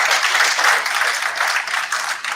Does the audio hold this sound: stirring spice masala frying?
no